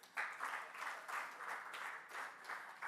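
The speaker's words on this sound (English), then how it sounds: "Clap for Grace." Brief burst of audience clapping at a social media convention, a modest crowd applauding in rolling waves, fairly distant and soft, starting abruptly and sustained throughout.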